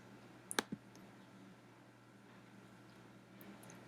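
A couple of quick, crisp computer mouse clicks close together near the start, while opening email settings in an inbox, followed by a quiet room with low steady hum.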